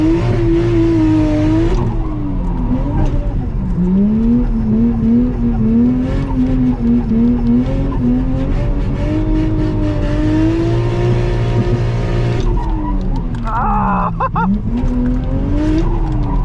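A video game Toyota JZX110 engine drones steadily on the Gunsai Touge mountain road, with repeated tire squeals as the wheels slip and then grip again, loud and continuous throughout.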